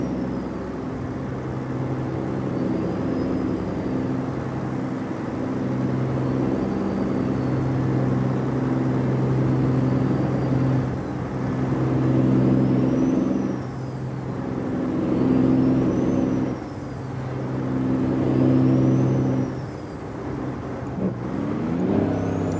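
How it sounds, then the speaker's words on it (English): A steady Kenworth T680 truck engine drone in the video game American Truck Simulator rumbles throughout, rising and falling in pitch as it revs, with a faint whine on top; no talking. "see if you can hear my engine"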